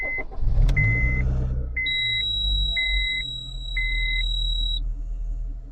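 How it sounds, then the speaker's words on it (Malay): A key turns and a car engine cranks and fires into a low idle, followed by a string of evenly spaced high electronic dashboard beeps over the running engine. "Kemudian barulah anda putarkan kunci untuk hidupkan enjin."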